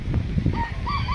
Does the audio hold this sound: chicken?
yes